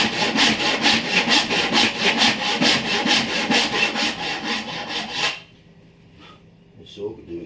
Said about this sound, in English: Cutting down to the shoulder, and the two cuts that you first made will just guide the saw